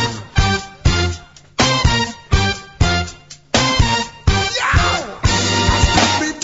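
A tribute song plays loud and steady, punchy funk horn stabs and a driving beat landing in regular accented bursts, with a sung line riding over the band throughout.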